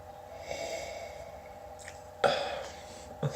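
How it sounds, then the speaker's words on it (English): A person sniffs a glass of Barefoot Merlot red wine close to the nose, with two or three sharp nasal inhales over quiet room tone. "I'm gonna try and see if I can sniff this once the wine goes to my nose."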